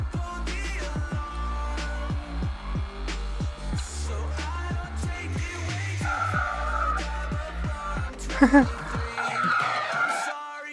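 A car in the GTA V mobile video game drives and skids, a steady low engine drone under repeated tire-squeal bursts and gear-like rhythmic pulses, closing in a louder rising screech before cutting off.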